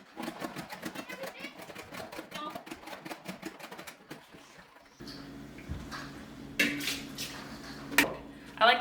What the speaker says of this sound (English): Next, I just spin it all out.